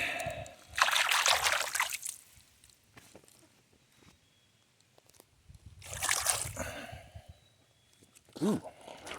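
Water trickles and splashes during an outdoor nature walk, rising in two bursts of bright babbling flow between quieter stretches, with brief voices nearby.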